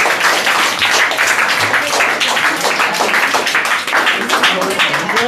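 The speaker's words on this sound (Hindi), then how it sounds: "तो प्लीज़ उनका ज़ोरदार तालियों के साथ स्वागत किया जाए।" Students give a loud, dense round of applause to welcome a guest at a Children's Day event, with steady close clapping filling the whole stretch and some voices mixed in.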